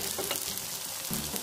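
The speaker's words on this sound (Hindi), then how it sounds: "ये सिक रहा है, इसको सिकते समय हल्के हाथों से दबा भी सकते हैं" Bread pizza topped with vegetables and cream toasts in a hot ghee-greased pan, giving a soft, steady sizzle with faint crackles, quiet and close.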